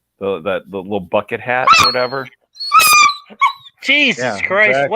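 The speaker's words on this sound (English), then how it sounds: "That's my dog." A dog barks and growls in short, agitated bursts close by, mixed in with people talking and laughing.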